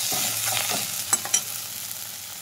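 Tomato pieces with salt sizzle in a pan while being stirred, a soft steady frying hiss with a couple of brief scraping clicks from the spoon, no speech.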